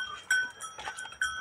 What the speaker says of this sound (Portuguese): aqui é a criação de ovelhas dele